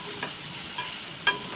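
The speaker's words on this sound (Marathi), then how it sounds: "आता इथे पॅनमध्ये पनीर थोडं तेलामध्ये परतून घेऊया व्यवस्थित" Paneer cubes frying in a little oil in a pan for matar paneer, a soft steady sizzle with a few light stirring scrapes.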